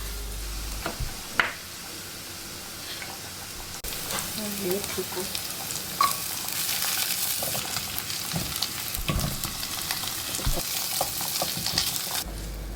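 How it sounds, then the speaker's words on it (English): Onions, garlic and green chilies frying in hot oil for an egg curry tadka, a soft steady sizzle with occasional stirring scrapes and clinks, fairly quiet and close, with no talking. "The tadka for this egg curry is so simple that it only has onions, garlic and green chilies"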